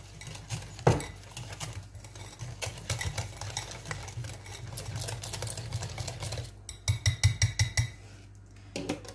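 Semolina cake batter with yogurt and desiccated coconut stirred in a bowl for a Ramadan basbousa, with a steady scraping patter throughout and a burst of rhythmic clinks near the end.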